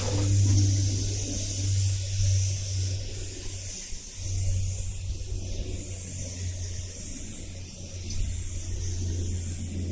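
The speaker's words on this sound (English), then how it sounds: "I'm just misting this really lightly with this Spray It 3000" A steady, soft spray hiss from a spray gun lightly misting catalyzed clear coat onto a headlight runs throughout, close and even, with a low hum underneath and no talking.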